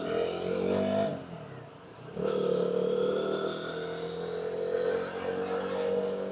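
A KTM Duke 200 single-cylinder motorcycle pulls away on a sunny road in Malaysia, engine note dipping briefly then rising steadily as it accelerates and cruises on, heard close from the rider's position with wind noise.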